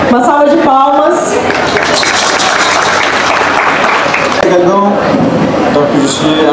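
An audience applauding at an indigenous peoples' gathering, loud sustained clapping with a voice speaking over it near the start and again toward the end.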